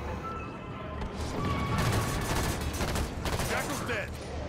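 Sustained gunfire at a hunter in Halo 5, a dense crackling volley with impacts and crashes, moderately loud and continuous, with a voice talking over it.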